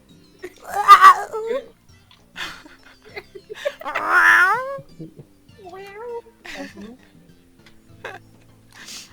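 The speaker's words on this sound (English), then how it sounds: "He's constantly going meow, meow, meow." A cat meows repeatedly in several drawn-out, wavering cries spread across the stretch, close and clear, with brief human speech between the calls.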